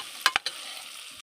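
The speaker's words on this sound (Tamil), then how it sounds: "வெங்காயம் வதங்கிட்டு பச்சை மிளகா சேர்த்துக்கலாம்." Onions and green chillies frying in a pan for coconut milk ghee rice, a steady close sizzle with a few sharp stirring scrapes, about a second long before cutting off.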